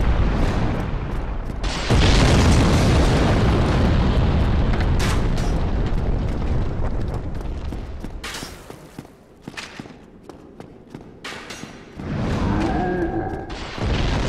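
Explosions and booming blasts from the video game Dark Souls, dense and loud, a continuous rumbling barrage with heavy low-end impacts and scattered sharp bursts, easing off midway before a final flurry.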